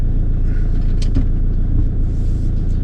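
Steady, loud low engine rumble of a 2020 Font Vendôme Rando Van camper idling and reversing slowly, a continuous drone with a couple of faint clicks, no voices.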